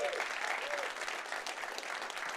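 Conference attendees give a brief burst of applause, a thick, continuous patter of many hands clapping at an even level, with faint voices briefly audible at the start.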